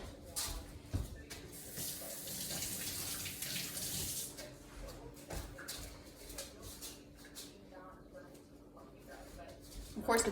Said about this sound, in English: Wash my hands super quick here.